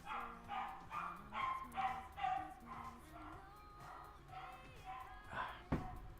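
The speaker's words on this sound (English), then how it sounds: "if you hear my dog barking in the background" A pet dog barks and yips repeatedly in the background of a home in the Netherlands. The short, whiny calls come in a steady, uneven series and stay faint and distant throughout.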